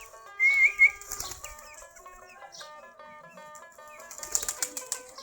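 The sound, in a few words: domestic Giribaz pigeons feeding and flapping wings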